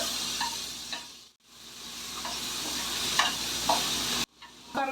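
Chopped tomato frying with garlic paste in a pan, sizzling steadily while a spoon stirs with scattered scrapes and clinks, briefly dropping out twice, no voices.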